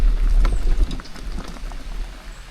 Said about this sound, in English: That creek babbling right at your back.